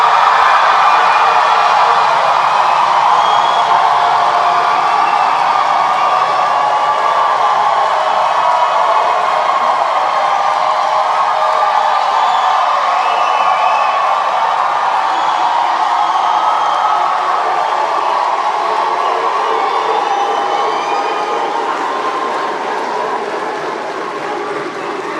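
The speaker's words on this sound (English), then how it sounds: "let's just see how loudly you can cheer yourselves and thank your families" Graduates at a University of Northampton summer graduation ceremony cheering loudly, a sustained roar of shouts and applause from a large crowd that holds steady, then eases slightly toward the end.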